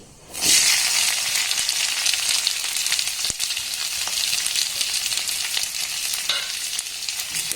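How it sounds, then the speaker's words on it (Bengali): Nigella seeds, chopped onions and green chillies hit hot oil, a sudden loud sizzle bursting up after a brief quiet start, then steady close frying with light stirring. "তেলের মধ্যে কালো জিরে একদম সামান্য পরিমাণে দিয়ে দিলাম এখানেই দিয়ে দেবো দুটো ছোট সাইজের পেঁয়াজ নিয়েছি"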